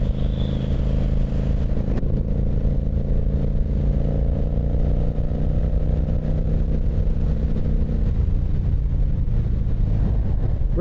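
A Honda VT1100 Shadow Ace motorcycle engine drones steadily while riding, its low rumbling harmonics climbing slightly as it pulls, with wind noise over the microphone and no talking.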